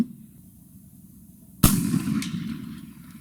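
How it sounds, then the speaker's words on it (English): One loud, abrupt crack from an 1853 Enfield black powder military rifle with a heavy trigger, fired at a range after a calm pause, its boom decaying over the next second or so. "Shot number 3."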